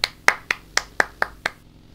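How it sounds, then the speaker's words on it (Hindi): Seven sharp hand claps at a steady, quick rhythm, close and clear, then silence. "ताली बजा दो बढ़वे के लिए तुम भी बजा दो"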